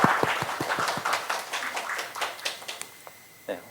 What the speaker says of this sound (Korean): 큰 박수로 환영해 주시면 감사하겠습니다.